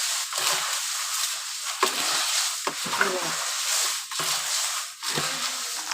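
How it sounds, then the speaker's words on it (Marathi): A big pot of Malvani masala spice mixture is stirred and mixed by hand, giving a dry, gritty scraping and rustle with repeated sweeping strokes, close and fairly loud. "मी आता टप टपमध्ये ओतते त्याच्यावर मिक्स करून घेते"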